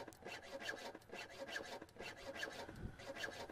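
Sawing in the video game Grim Tales: a quiet, rhythmic back-and-forth rasp of a saw through wood, about eight even strokes heard alone.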